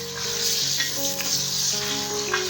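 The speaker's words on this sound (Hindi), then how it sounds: "अब हमने चिकन को फ्राई करना है।" A kilogram of washed chicken frying in a pan for a shahi chicken korma, giving a steady, close sizzle that holds without a break.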